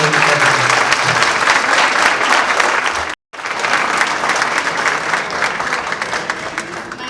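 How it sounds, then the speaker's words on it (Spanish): Audience applause after a lecture, sustained dense clapping filling the room, briefly cut off by a moment of silence before resuming just as strongly. "Un fuerte aplauso para el maestro Isabel"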